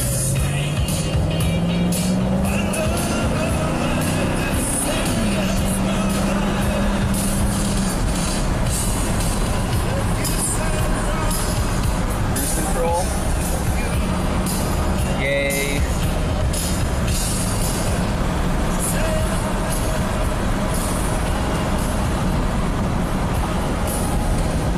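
A Cadillac Escalade accelerating, its engine droning loud and close with a rising tone in the first seconds, amid heavy road and cabin noise that stays dense throughout.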